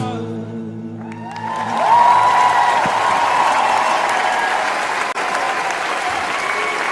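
Dense, loud applause from a concert audience fills the hall in a continuous wash that swells after a sung phrase fades, with scattered cheers mixed in.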